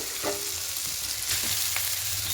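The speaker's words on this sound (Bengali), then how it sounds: "এবার এই সময়তে চাউমিনটা দিয়ে দেবো" Semolina chowmein tossed into a hot pan with fried vegetables and a little soy sauce, giving a steady close sizzle broken by a few scraping stirs of the spatula, with no voices.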